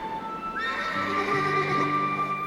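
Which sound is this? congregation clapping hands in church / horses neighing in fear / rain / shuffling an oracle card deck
horses neighing in fear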